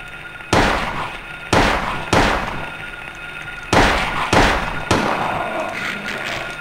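Six loud, sharp shotgun blasts in the video game Silent Hill, fired at uneven intervals, each a booming blast with a short echoing tail.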